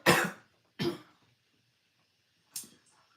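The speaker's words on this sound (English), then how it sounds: "Sorry, I am coughing." A woman coughs three times indoors: two quick coughs close together, then a single cough after a pause, each loud against near silence during a livestream.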